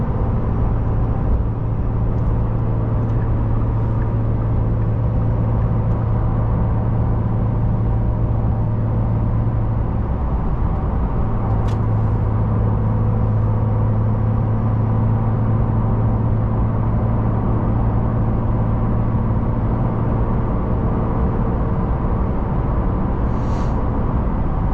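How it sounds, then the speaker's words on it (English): A 2025 Porsche 911 Carrera T cruises on a highway, giving a steady, loud cabin drone of road and engine rumble that holds without pause throughout, with no talking. "once you're cruising on the highway, you're perfectly fine"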